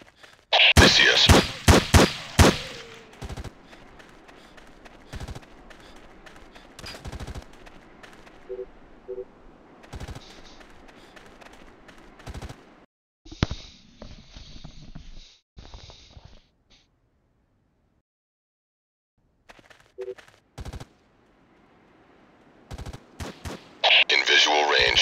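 Gunfire in the tactical shooter game Tom Clancy's Ghost Recon: sharp bursts of shots open the clip, with scattered single reports, quieter stretches and a noisy burst near the end, mixed with game sounds and some speech.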